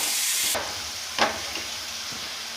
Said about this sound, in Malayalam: അപ്പോൾ നമുക്ക് ഈ ചതച്ച് വെച്ച ഇഞ്ചി വെളുത്തുള്ളിയുടെ മിക്സ് ഇട്ടിട്ട് നല്ലോണം മൂപ്പിക്കാം.